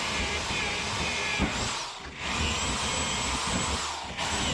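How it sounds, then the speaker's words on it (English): A power drill bores steadily through a wooden sideboard on a 1988 Ford F700 single-axle dump truck, a loud continuous whine with brief dips as the bit bites and the motor briefly lets off. "we're just drilling through the wood, which makes it a lot easier"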